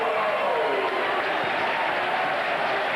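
A football crowd roars and cheers loudly and steadily as fans spill onto the pitch at a UEFA Cup match between Shelbourne and Glasgow Rangers, a dense wash of noise with no break.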